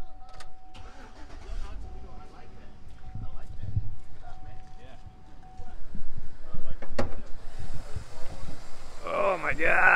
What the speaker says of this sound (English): Pop the hood and we'll start it up